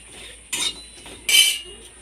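Two dried red chillies, whole cumin seeds and a bay leaf dry-roasting in a pan without oil give two short bursts of rattling, scraping clatter in an otherwise quiet kitchen.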